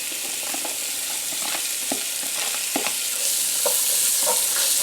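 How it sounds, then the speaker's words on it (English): Onions sautéing in hot fat for clam chowder, a steady close sizzle with occasional stirring clicks throughout, growing slightly louder toward the end, no talk. "now we're going to throw our onions in."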